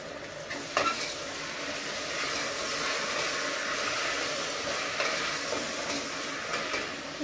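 Onion, potato and carrot fry in a pan with a steady, loud, close sizzle and hiss that holds evenly throughout, with a couple of brief stirring knocks and no talking.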